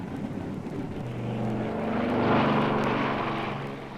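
An aeroplane sound effect from a children's story record, a propeller plane's engine drone that swells to a peak near the middle and then slowly fades, heard alone without voices.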